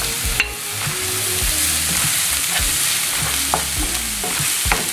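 Onion and garlic frying in a pan until browned for an Ecuadorian beef corviche: a steady close sizzle with repeated scraping spoon strokes, no talking.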